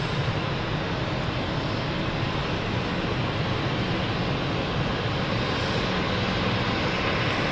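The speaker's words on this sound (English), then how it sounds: "But the departure first, the Palma flight is our next aircraft in action." A passenger jet taking off from London City Airport on its way to Palma, a loud, steady engine roar that stays broad and sustained throughout, with no talking.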